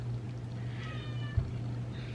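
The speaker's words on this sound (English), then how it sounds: "Joanne, my cat, she's just like begging." A pet cat meows briefly while begging, one short plaintive call in the middle of a room with a steady low electrical hum underneath.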